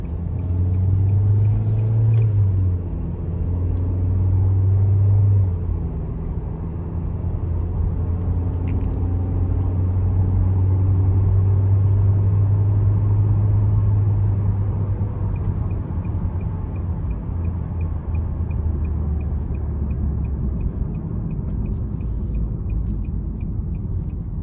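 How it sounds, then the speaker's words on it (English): A 2022 Nissan Kicks SV on the road gives a steady low engine drone and road rumble from inside the cabin, with a brief shift in pitch early on and no talk. "take this 2022 Nissan Kicks SV out on the road for a quick test drive"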